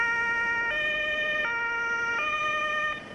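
An ambulance siren from a Sofia hospital wails in a steady two-tone pattern, switching pitch about every three-quarters of a second, loud and close, with no voices over it.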